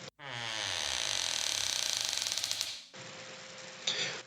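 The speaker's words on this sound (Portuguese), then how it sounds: "Abrem a porta" A door creaking open as a radio drama sound effect, a long drawn-out groaning creak with ratcheting pulses that stops, followed by a quieter rattling mechanical tail.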